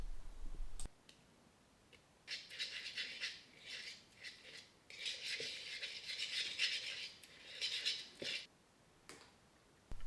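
Anchovy fillets in oil and crushed garlic being mashed into a paste in a large mixing bowl, heard as soft, wet scraping and clicking strokes in quick bursts, close and fairly quiet, with no talking.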